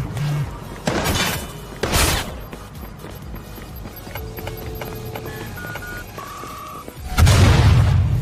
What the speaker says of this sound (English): Can you hear the gunfire?